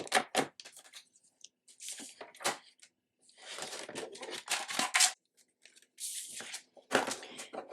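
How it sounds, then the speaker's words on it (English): Scissors snip through cardstock in short, crisp bursts of cutting and rustling, close and fairly quiet, with brief pauses between strokes. "we will cut down this cardstock to 11 inches"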